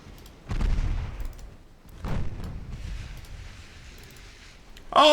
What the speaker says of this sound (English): Hitting the heavy cruiser with the torpedoes